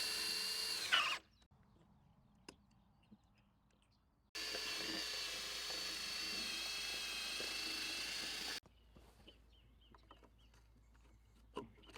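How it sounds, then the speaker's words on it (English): A power drill bores holes through a wooden post in two bursts, one short whine at the start and then a longer steady grinding run, with quiet gaps and faint clicks between them. "so I can guide through the holes, so those two holes will line up"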